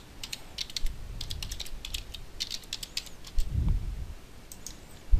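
Fingers typing on a computer keyboard, quick irregular bursts of light clicking keys, close and fairly quiet, with a soft thump near the end.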